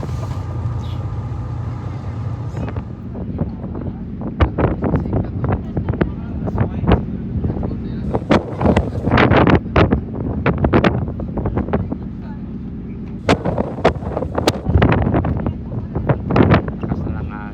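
Strong wind buffets and roars against the microphone, with gusty bursts and rumble throughout.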